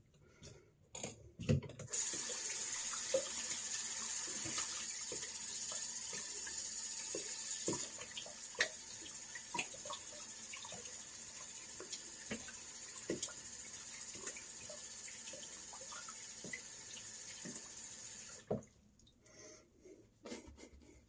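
Water running and draining from a bathroom sink after a shave, a steady close rushing for most of the stretch with small clicks and clatters, then stopping near the end.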